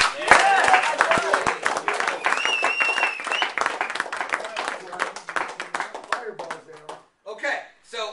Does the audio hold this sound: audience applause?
yes